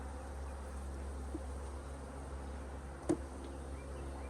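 Steady low honeybee buzzing from an open, thriving beehive during a spring inspection, a continuous hum with one brief nearby knock partway through.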